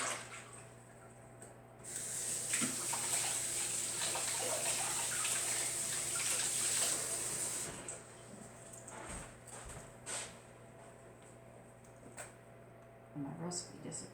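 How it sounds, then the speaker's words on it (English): Running tap water splashing over hands being washed at a kitchen sink, a steady faint hiss for several seconds that then stops, followed by small clatters and light handling sounds. "Sorry, gotta wash my hand."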